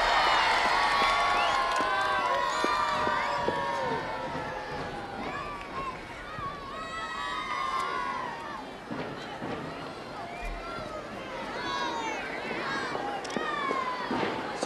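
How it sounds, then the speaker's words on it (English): A crowd cheers and shouts steadily outdoors at a celebrity knockout game as a team sets off running, with excited voices and someone talking over it. "Give them a cheer as they go."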